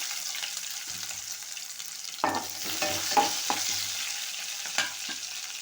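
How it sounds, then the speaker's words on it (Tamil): Onions fry in a pan with a little salt and curry leaves for pepper chicken, a moderate continuous sizzle with intermittent scraping strokes and taps as they are stirred. "இப்போ வெங்காயம் வேகட்டும், கிண்டிக்கிட்டே இருக்கணும்"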